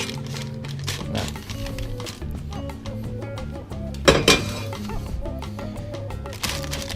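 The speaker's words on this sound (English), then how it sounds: "So get your mixture and just tip it into the centre of your baking tray." An energy bar mixture is tipped from a bowl into the centre of a baking tray, giving a brief clatter and clink of utensil and tray near the middle, over steady background music.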